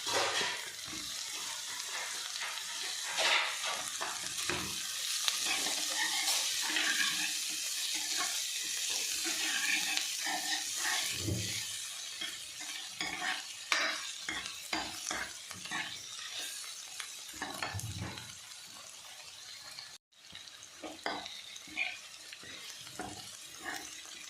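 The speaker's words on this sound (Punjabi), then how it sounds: "ਹੁਣ ਸੀ ਦੇ ਵਿੱਚ ਕੱਦੂਕਸ ਕਰਿਆ ਹੋਇਆ ਅਦਰਕ ਪਾਵਾਂਗੇ" Grated ginger frying in ghee in a pan, a soft continuous sizzle broken by frequent close scraping stirs with a utensil, moderately quiet with no speech.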